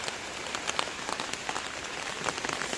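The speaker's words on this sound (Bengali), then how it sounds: "গত রাত থেকে মুষলধারে বৃষ্টি হচ্ছে।" A torrential overnight downpour hammers steadily on nearby surfaces, a constant wash of rain with many sharper individual drop splats scattered through it.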